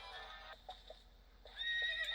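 In a video game, a horse gives two short whinnies, one at the start and a brighter one near the end, with soft hoof clops between them, fairly faint and without talk.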